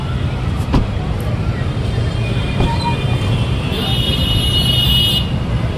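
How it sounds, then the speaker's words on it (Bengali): Car inching through a crowded street during Durga Puja, with steady traffic rumble, a brief horn toot and a faint high whine near the end, voices of the crowd mixed into the din. "আমরাও আস্তে আস্তে ভিড় ঠেলে গাড়ি নিয়ে এগিয়ে যাচ্ছি।"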